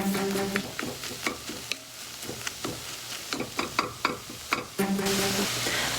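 Italian sausage soup ingredients crackle and sizzle in a pan while a utensil scrapes and taps repeatedly in an uneven rhythm, close by, with a faint hum in the background.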